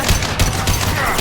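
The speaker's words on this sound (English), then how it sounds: "Blue Suns and Vorcha shooting anything that moves" Rapid bursts of automatic gunfire from Blue Suns mercenaries and Vorcha in the Mass Effect 2 game, loud and close, overlapping volleys with no pauses.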